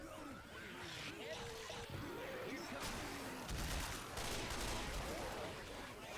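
Rapid gunfire from the video game Left 4 Dead, with bursts and crackling shots running throughout, mixed with game effects while players talk over it.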